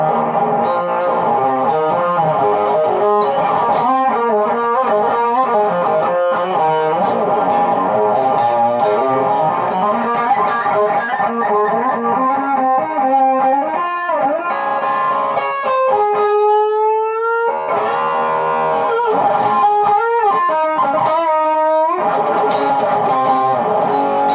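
Electric guitar through distortion and delay pedals, delay feedback and time at minimum, mix at maximum, distortion fully up, playing a melodic line with sustained notes, bends and echoing repeats, loud and continuous.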